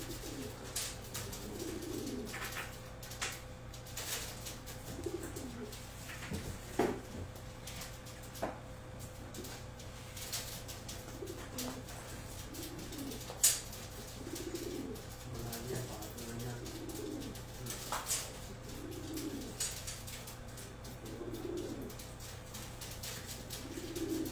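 Pigeons cooing softly and repeatedly in low, rolling calls at moderate distance, over a steady faint hum and occasional small knocks.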